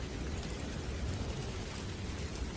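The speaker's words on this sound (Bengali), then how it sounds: "চারিপাশে টিপ টিপ বৃষ্টি হচ্ছে" Steady hiss of light drizzle falling, constant and even throughout with no voices.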